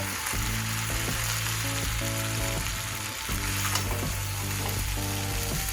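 Hakka noodles frying in a pan as noodle masala is mixed through, giving a steady close sizzle with repeated scraping and stirring strokes throughout.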